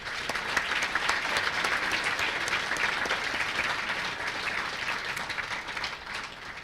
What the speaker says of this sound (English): Let's give Slumberland a round of applause and a hand for all that they do for our Upper Midwest